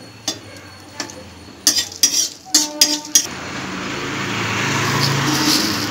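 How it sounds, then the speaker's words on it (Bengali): A utensil clinks and scrapes against a pan several times as dried red chillies go into hot oil, then a hissing fry rises and settles into a steady sizzle. "শুকনো লঙ্কাগুলো একটু আগে ভেজে নিই, তা নাহলে শুকনো লঙ্কা ভাজতে একটু সময় লাগে।"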